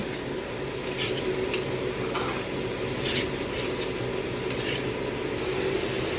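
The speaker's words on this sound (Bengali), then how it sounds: "এবার ভেজে রাখা গুগলিগুলো দিয়ে দেবো। গুগলিগুলো দিয়েও মশলার সাথে একটু কষে নেব।" Fried snails tossed with spice paste in a pan, a steady low sizzle under scraping and stirring strokes of a spoon against the metal, with a few sharper clinks.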